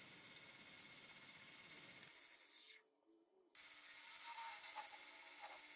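Medium grit sandpaper rubbing over a wooden Christmas tree, giving a steady, close, airy hiss that cuts out briefly partway through and then resumes just as strongly.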